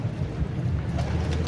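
Pigeons kept by a hobbyist flyer, a low soft cooing murmur close by, continuous over the short stretch with faint outdoor background noise.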